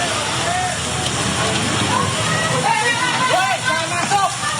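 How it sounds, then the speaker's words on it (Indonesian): Fire tearing through a motorbike repair workshop and a grocery stall in Cikupa, Tangerang, Banten, giving a steady, loud crackling roar with a few sharper pops, while voices talk over it throughout. "Kobaran api dengan cepat melahap bengkel motor dan warung sembako di Cikupa"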